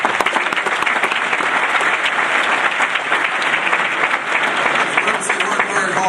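A large audience claps steadily and loudly throughout at an Omega Psi Phi fraternity centennial event, a continuous dense wash of hands with murmured voices beneath.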